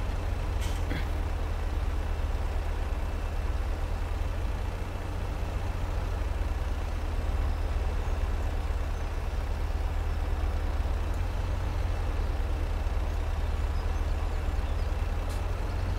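A truck engine drones steadily in Landwirtschafts-Simulator 17 (LS17), a continuous low rumble that stays loud and even throughout, with a brief hiss near the start and no speech.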